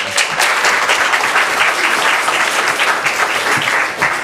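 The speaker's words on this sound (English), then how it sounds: "So let's have another round of applause." Loud, sustained clapping from a crowd at a school board meeting, honoring a state champion high school baseball team, holds at full strength for several seconds without speech.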